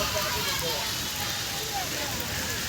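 Steady dense rain hiss at Bangabandhu Sheikh Mujib Safari Park, a constant broadband wash of falling rain with no breaks, close and even throughout.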